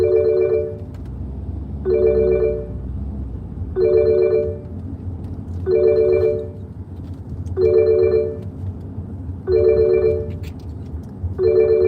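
A phone rings with an incoming call, six evenly spaced electronic ring bursts about every two seconds, clear and steady over a low background hum.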